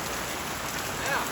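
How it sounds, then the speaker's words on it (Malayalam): Heavy rain pours steadily onto Karippan Kulam pond in Puthanathani, a dense, even hiss of drops striking water with no break across the moment. "നല്ല മഴ കേട്ടോ പെയ്യുന്നു"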